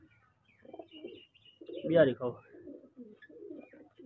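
Fighter pigeons for sale coo in a soft, throaty burst that peaks in the middle, close by, with a voice speaking around the calls.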